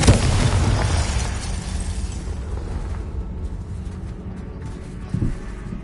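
A Confringo blasting spell explodes in Hogwarts Legacy, one loud booming burst at the start that rumbles and fades over several seconds, with a small thud near the end.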